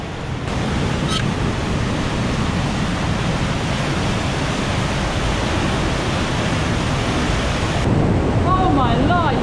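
Waterfall at the Devil's Cauldron in Lydford Gorge, Dartmoor, pours in a loud, steady, unbroken roar that fills the whole stretch, close by, with no voices over it.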